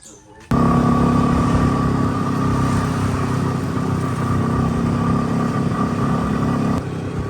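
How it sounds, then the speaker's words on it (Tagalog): A borrowed motorcycle engine starts up and runs steadily at a loud, constant idle-to-cruise drone as it rides off, with a sustained hum throughout. "Kami po ay tigisan ng motor na gagamitin."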